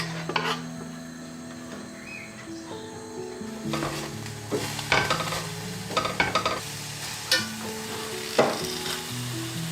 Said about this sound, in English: In a pan, saute the pepper and the green onion for a couple of minutes.